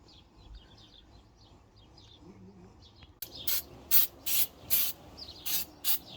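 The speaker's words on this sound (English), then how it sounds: "Just a final spray if there's any dirt or contaminants." Brake parts on a Toyota Prado (Land Cruiser) get a cleaner spray, which arrives as a series of about six sharp, loud hissing bursts. Faint birdsong chirps in the background before and between them.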